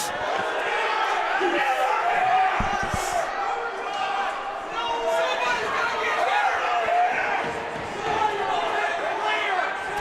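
A displeased crowd at a college ice hockey game between Dordt and Missouri State reacts to a hit on a player, with steady loud murmuring, jeers and scattered shouts alongside thuds from the rink.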